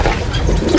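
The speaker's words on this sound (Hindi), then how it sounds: "हम जो नया कबूतर पकड़ा है ना भाई वो बेचारा थोड़ा सा मुझे जो इंजर्ड लग रहा" Low, soft cooing from a newly caught pigeon that seems injured, heard close by as a steady murmur of low tones under faint background noise.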